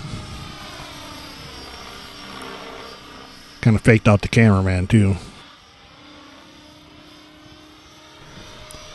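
Steady whirring buzz of a Blade 550 X radio-controlled helicopter flying a barrel roll, moderately loud throughout, briefly covered by a burst of nearby talk in the middle.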